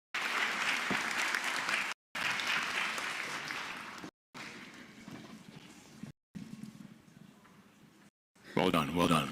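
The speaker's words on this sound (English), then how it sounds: "Give him a round of applause, ladies and gentlemen." Audience applause at a science-week closing ceremony, a sustained round of clapping in a large room broken by brief gaps, with a voice speaking at the end.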